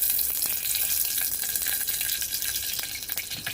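Curry leaves crackle and sizzle in hot oil in a dal pot on a stove, a steady close frying hiss with small scattered pops throughout, no talking.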